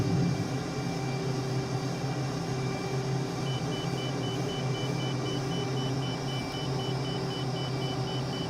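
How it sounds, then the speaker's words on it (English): A steady cockpit warning tone beeps in Microsoft Flight Simulator 2024, a thin repeating pulse over a constant droning engine and cabin hum that fills the whole stretch without any voices. "Flashing and beeping and beeping and flashing."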